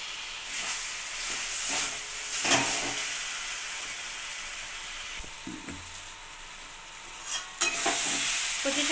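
Young taro greens cook in ghee in a pan, giving a steady soft sizzle and hiss broken by several scraping stirs, with no voices.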